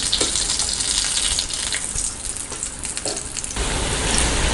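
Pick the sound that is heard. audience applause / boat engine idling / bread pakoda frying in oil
bread pakoda frying in oil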